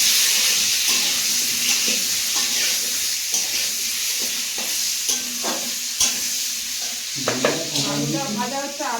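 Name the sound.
potatoes frying with salt and turmeric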